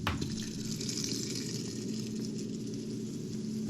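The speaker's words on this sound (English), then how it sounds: "So here we go, this boiling sugar on top." Boiling sugar water is poured from a pot onto gelatin, making a steady close gush of liquid that runs unbroken for a few seconds.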